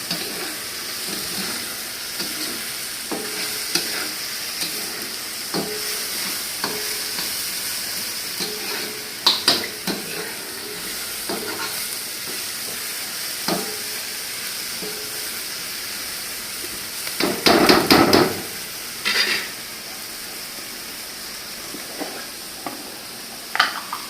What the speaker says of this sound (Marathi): आता ते परतून घेतो